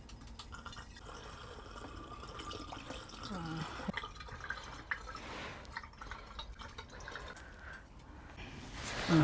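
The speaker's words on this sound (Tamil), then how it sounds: "இப்போ நான் வடிகட்டிடுறேன். ஓகே, இனி இந்த பாட்டிலில் அப்படியே ஊற்றி வச்சிடலாம்." Strained homemade ginger wine is poured into a bottle, a soft trickling, dripping liquid sound that runs quietly and continuously near the microphone.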